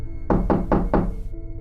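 Four firm, evenly spaced knocks on a door in the middle of the night, close and resonant over a low background drone, as in a Roblox animated horror story.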